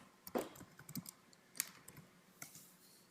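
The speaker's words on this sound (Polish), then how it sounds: "wpisujemy Sunglasses Man" A computer keyboard is typed on briefly while a search is entered, giving a few soft, close key clicks in an irregular cluster over a quiet background.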